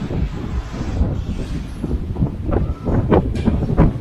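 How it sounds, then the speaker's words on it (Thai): Dry wind buffets a microphone outdoors beside a lake in Savannakhet, Laos, making loud low rumbling gusts that rise and fall, with no speech. "ลมแห้งขนาดเลย"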